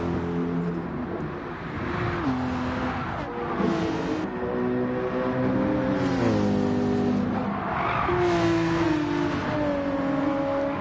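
A BMW M6 GT3 race car in a racing game, its engine droning loudly and continuously, pitch climbing and dropping through gear shifts as it laps the track.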